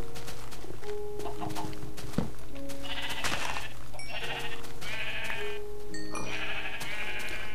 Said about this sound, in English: Oh, sorry guys, but I'm killing your sheep.